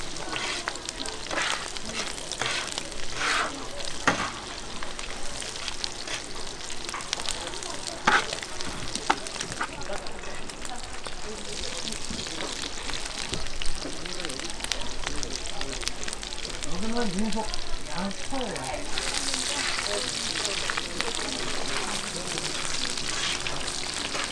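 Pork offal parts deep-frying in a large vat of oil at a Korean market eatery, a loud continuous sizzle and crackle with occasional clanks, while people talk over it throughout.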